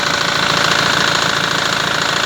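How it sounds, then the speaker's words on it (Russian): Loud, steady knocking from a BMW X3 E83 with a 2.0-litre turbodiesel engine brought in for diagnosis. A rapid, even rhythmic clatter runs continuously over the engine hum, close up with no voices. "Стук в двигателе, характерный стук"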